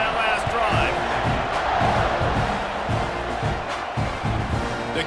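A football stadium crowd at an Indiana at Texas A&M game roars in a dense, continuous wash of cheering and shouting. It is loud and sustained, with a few sharper bursts rising out of the din.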